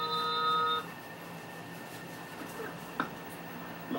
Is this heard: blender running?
no